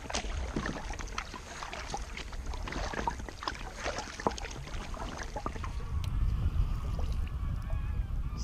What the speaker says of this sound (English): Just listen to ducks or geese across there. There's about 100 of them all just taken off. Absolutely deafening.